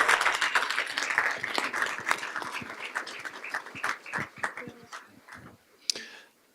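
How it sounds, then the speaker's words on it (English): A modest audience at a school board meeting applauds two student representatives from Thunder Ridge High School; scattered, fairly close hand claps that thin out and fade to a few isolated claps at the end. "So let's give them a nice round of applause."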